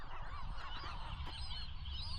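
Seabirds calling in a continuous dense chorus of honking, squawking cries near a campsite among nesting birds on Anacapa Island, loud and close throughout.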